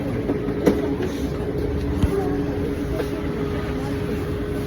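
A metro train rides through a subway tunnel with a steady, loud rumble and a hum throughout, plus a few sharp rail clicks or squeals.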